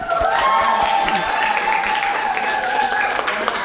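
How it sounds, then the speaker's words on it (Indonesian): Brief applause breaks out from a group of students during a Ramadhan religious lesson at a school, a short burst of clapping with some voices mixed in. "Oke, tepuk tangan."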